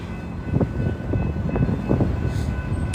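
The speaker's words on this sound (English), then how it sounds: "Long train, guys, long train." A long train rolls past in New Orleans, a steady close rumble with rhythmic clacks and thumps of wheels over rail joints, continuing without letup throughout.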